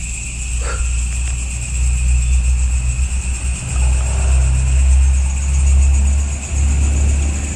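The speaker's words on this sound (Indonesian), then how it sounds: "sekolah ini persis di pinggir jalan raya bosku, jadi selalu ramai saja lalu lintas yang berlalu lalang begitu ya" Traffic on a busy main road running past a school at night: a steady low engine rumble swells and eases as vehicles pass, under a constant high-pitched hum.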